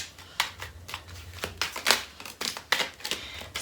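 Cards being shuffled and pulled from a constellation oracle deck, a run of soft papery riffles and flicks in an uneven rhythm, close up and quiet, with no talking.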